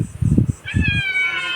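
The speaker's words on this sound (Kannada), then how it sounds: "13 ಬೆಕ್ಕುಗಳುಂಟು." Cats waiting to be fed let out a short meow after a brief low scuffle, close and clear.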